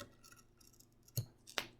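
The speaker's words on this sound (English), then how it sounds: "Use my scissors to cut it to match up with where my other duct tape line is." Scissors snip through duct tape during a clipboard craft, two sharp quick cuts near the end of a quiet stretch, close and distinct.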